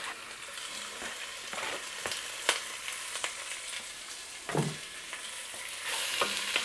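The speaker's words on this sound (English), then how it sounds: "once I put my meat in there, I give it a minute to start getting brown" Cut-up bone-in pork chops browning in a pot for stew give a steady low sizzle with scattered sharp crackles and scraping clicks, a louder spatter near the middle and a brighter hiss toward the end, no talking.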